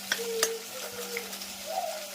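Hot oil sizzles and crackles steadily as spices hit the pan in a tempering for dal, with a couple of sharp clinks near the start and no talking.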